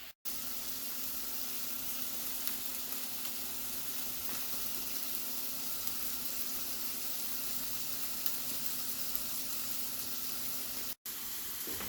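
Burgers frying in a cast iron skillet, a loud, steady, close sizzle that runs almost unbroken throughout with faint crackles and no voices.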